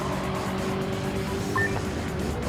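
Race cars overtaking in Gran Turismo 7, a Ford GT4 event at the Daytona Road Course, with a steady droning engine note and a brief passing swell partway through, no talk.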